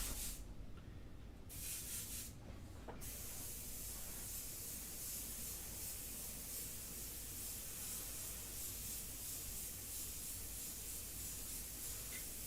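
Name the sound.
Xtreme 105 airbrush spraying ink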